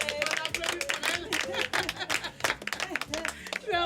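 Audience applause for a performer in a French comedy sketch, a dense patter of claps with scattered cheers and laughter over about four seconds, with voices mixed in.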